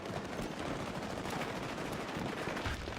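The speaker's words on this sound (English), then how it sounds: "I'm shooting a teammate." Gunfire rattles in Battlefield 6 as rapid, continuous automatic shots that sound somewhat distant and muffled in a dense battlefield din.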